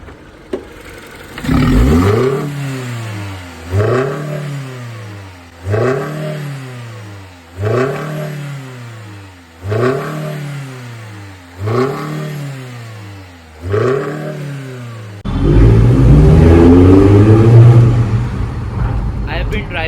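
A Mini Cooper Convertible engine fitted with a K&N reverse conical air filter revs repeatedly, each rise climbing sharply then falling, six times in a steady rhythm, before a sustained loud roar of acceleration.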